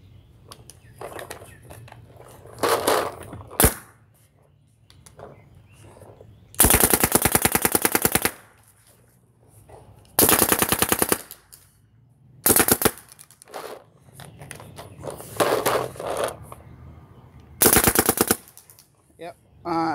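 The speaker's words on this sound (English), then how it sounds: "I've only fired a maxed, or one of these Proto Rize markers a couple times." A Proto Rize paintball marker fires in loud, rapid bursts of fast rattling shots, several strings separated by pauses, with faint voices and light clicks in the quieter gaps between them.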